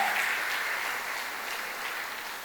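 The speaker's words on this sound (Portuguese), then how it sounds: "Diga glória a Deus, palmas para Jesus." Church congregation applauding at a Sunday family service, a dense, steady wash of many hands clapping that fades slightly, heard alone without voices.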